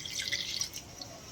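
Water trickles and splashes onto black tamarind set in a bowl to soak, a short steady pour of bright dripping and splashing, close and fairly loud, with no voices.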